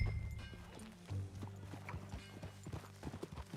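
Horse hooves clip-clop in a steady, uneven rhythm beneath low music in Red Dead Redemption 2, fairly close and moderately loud, with a brief murmur of voices.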